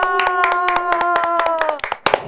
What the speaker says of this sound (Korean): 저 바깥에서 박수를 치고 난리예요